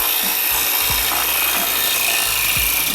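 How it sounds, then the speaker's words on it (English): Eastwood 4-inch belt, 6-inch disc sander shaping a garnish molding for a 1940 Chevy, a loud continuous whirring grind with the abrasive rasping steadily against the part and brief dips in pitch as pressure changes. "So now I'm gonna use my Eastwood 4-inch belt, 6-inch disc sander, and this allows me to just get a nice radius edge."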